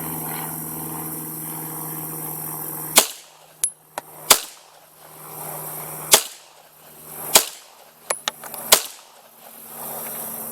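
Taurus PT99 9mm pistol firing reloaded ammunition at a range: about eight sharp, loud shots spread over several seconds, a pair of them close together, with steady background hum between the reports.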